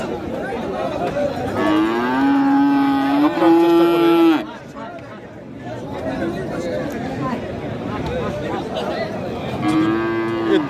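Cattle low loudly with long drawn-out moos, one after another, over a busy crowd of chattering voices nearby at Kalitala cattle market in Nilphamari, Bangladesh.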